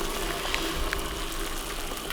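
Water boiling in a pot on a wood stove inside an insulated hot tent, a steady bubbling and hissing at moderate level with no talk.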